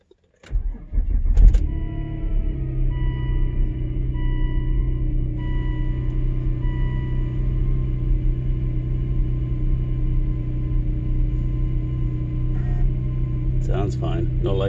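A Volvo car engine cranks briefly and catches, then settles into a steady, loud idle with a low rumble that continues evenly, with a few faint clicks near the end.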